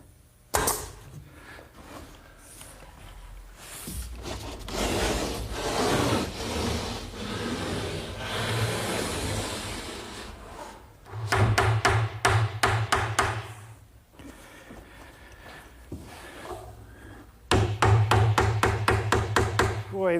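Brads driven into glued plywood to square and fasten a panel, heard as rapid bursts of sharp taps in two clusters near the end, following a longer stretch of someone talking over quieter shop noise.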